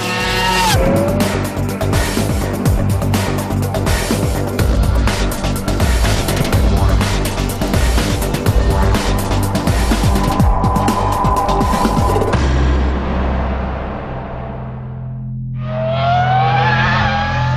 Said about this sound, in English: If you're serious about motor racing, this is what you drive. The 2004 Formula One car.